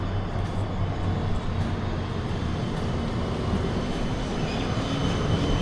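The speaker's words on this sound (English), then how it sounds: "The tram has arrived." A tram pulls into a stop with a steady, close low rumble and hum that holds for several seconds, no one speaking.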